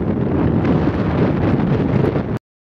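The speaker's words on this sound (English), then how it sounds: "It's very windy out here right now." Strong wind gusts out on a frozen lake's ice, a loud continuous roar buffeting the microphone, then cutting off abruptly.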